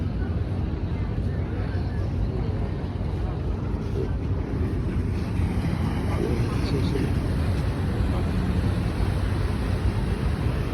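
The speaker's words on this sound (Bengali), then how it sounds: "এই যে একটি স্পিড বোট আসলো" A speed boat approaches a river terminal amid a steady, broad engine and water roar with heavy wind buffeting the microphone, while someone talks over the noise.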